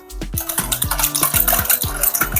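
Thick curd being churned with a buttermilk churner in a vessel, about half a dozen quick rhythmic knocking strokes, close and clear, with no talking.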